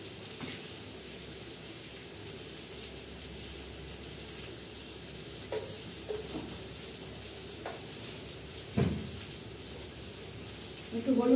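Onion and potato fry quietly in a pan, a soft, steady sizzle running throughout with a few faint clinks and scrapes of stirring, heard fairly close but low in level.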